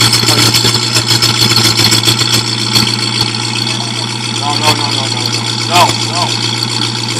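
A 1968 Mustang Fastback with a 289 engine idles steadily, heard up close at the muffler as a loud, continuous low rumble, with people talking over it.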